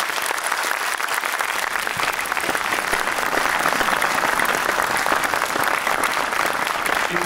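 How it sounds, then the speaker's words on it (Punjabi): A theatre audience applauds at the end of a Sikh-history stage play at a festival, dense continuous clapping from a large crowd, loud and sustained throughout. "ਜੇ ਤੁਹਾਨੂੰ ਪਲੇ ਵਧੀਆ ਲੱਗਿਆ ਤਾਂ ਇੱਕ ਵਾਰੀ ਜ਼ੋਰਦਾਰ ਤਾੜੀਆਂ ਜੀ"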